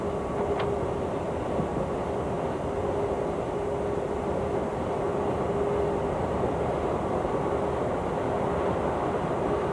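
Steady, loud engine roar and rumble of a Concorde taxiing, heard from inside the flight deck, with a constant whine running through it and no talk.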